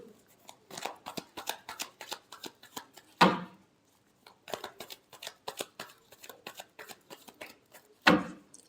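Tarot cards being shuffled by hand in two rapid runs of riffling flicks, each ending in a sharp louder snap, close and clear with no talking.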